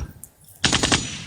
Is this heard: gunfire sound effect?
yes